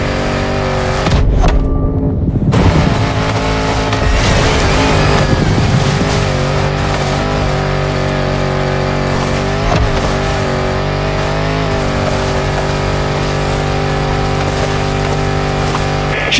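A 400-horsepower Defender with a 70-year-old body churns off-road in The Crew Motorfest, its engine droning loud and steady with revving swells and brief bursts, filling the whole stretch without talk.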